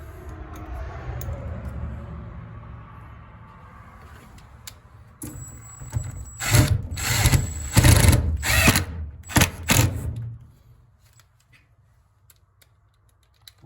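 Power drill driving screws into a bracket for a sliding auto vent mechanism, a few short bursts close by, with quiet handling noise before the drilling and silence after.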